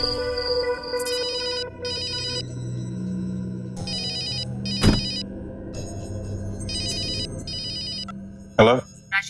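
A telephone rings with an incoming call, sounding repeated bursts of electronic trilling tones in a regular on-off pattern over a low background drone. A loud thud lands midway, and a voice briefly sounds near the end.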